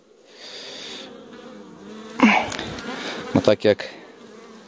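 Honey bees buzz steadily at an apiary hive being readied for winter, a continuous droning hum with a voice speaking briefly over it.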